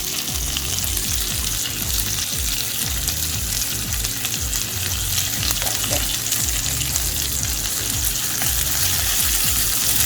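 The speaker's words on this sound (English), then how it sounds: "On this side I'm going to put in the chopped onions I cut up before. And I'm going to put about half a teaspoon of salt to that onion." Chopped onions salted with about half a teaspoon of salt fry on low heat for a koi fish curry, a steady close sizzle with stirring scrapes running throughout, no talking.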